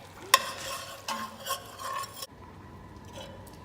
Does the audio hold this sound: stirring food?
yes